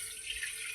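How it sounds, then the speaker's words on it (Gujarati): Water running from a tap into a cooking pot set on the stove to boil pasta, a soft steady hiss-like stream that stays quiet and continuous with no talking. "પાણી નાખીએ."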